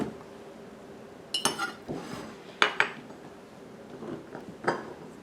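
A glass canning jar clinks and knocks on a hard surface while canning salt goes in for home-canned yellow summer squash, with several sharp, close clinks spread across the moment and no talking.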